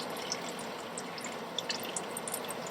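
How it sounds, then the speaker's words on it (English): Engine oil draining from an upturned oil filter into a drain pan during an oil change on a Ford F350 6.7L diesel, heard as a steady trickle with scattered small drips and no talking. "Then we turn the filter over and let it drain inside the pan."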